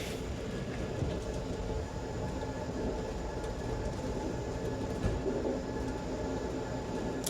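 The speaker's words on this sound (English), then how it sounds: "I don't know why I was expecting a much slower and rough start when the train took off" An Amtrak first-class train rolls steadily along the rails with a continuous, fairly loud low rumble and faint rhythmic wheel clatter, heard from inside the car with no talking.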